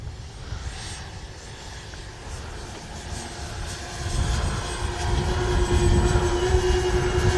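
A radio-controlled B-25J Mitchell twin-engine model bomber flies a low pass with gear down, its engine drone swelling louder as it approaches over steady wind noise, with no speech.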